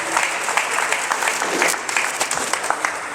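Audience applauding at a poultry farming seminar on brooding and management, a dense, steady burst of many hands clapping that carries on evenly throughout.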